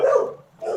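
A person imitates a dog barking with two short, loud woof-like vocal bursts separated by a brief pause.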